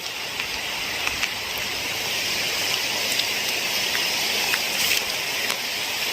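Rain falling outdoors in Kerala, a dense steady hiss of drops with occasional sharper patters standing out, even and unbroken throughout with no voices.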